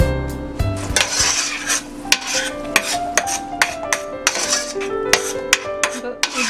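A ground paste of onion, garlic and pepper, made without added water, poured into hot oil in a pan, with close bright scraping, clinking and stirring taps against the metal over a low sizzle, in irregular repeated strokes.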